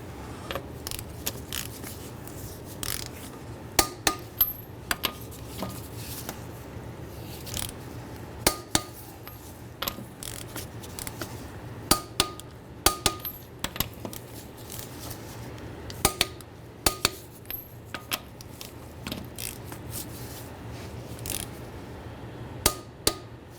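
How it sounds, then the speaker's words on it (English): Torque wrench snugging lug nuts on a 2003-2011 Honda Element wheel in a crisscross pattern, heard as scattered sharp metallic clicks and clanks over a low steady hum, fairly close, with no talking. "we're going to torque our lug nuts down to 80 foot-pounds"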